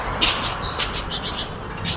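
Birds chirping outdoors: several short, high tweets come in brief bursts over a soft, steady background, moderately near and with no talk.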